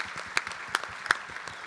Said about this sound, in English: let's give a round of applause for our contestants and their bravery this evening